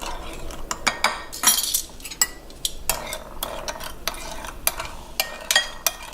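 Ingredients are mixed together in a bowl for a house special lobster dish, producing a rapid series of close clinks, taps and scraping strokes of a utensil.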